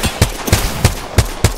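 Gunfire in the Apex Legends video game: five loud, close shots spaced about a third of a second apart, each a sharp burst with a booming low end, with no talk.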